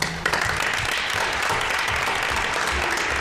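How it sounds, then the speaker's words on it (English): A town deliberative-session audience gives the robotics team a round of applause. The clapping is dense and steady, a close, even wash of hands from start to finish with no talking over it. "I'd like to give them a round of applause."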